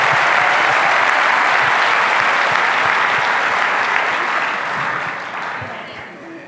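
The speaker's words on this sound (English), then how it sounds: "Let's give him another round of applause," A large audience applauding at a Rwanda Day community event in San Francisco, with a broad sustained roar of clapping that slowly tapers off near the end.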